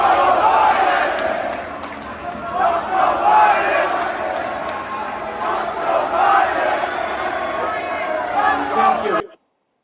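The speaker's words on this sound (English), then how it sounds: "they're very clearly chanting" Loud crowd chanting at a Trump rally, a dense roar of many voices rising and falling in a steady rhythmic chant, close and sustained before cutting off abruptly.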